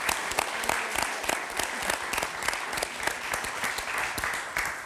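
Audience applause at a live French public talk event, dense sustained clapping from a crowd throughout, fairly loud and close, with no voices standing out.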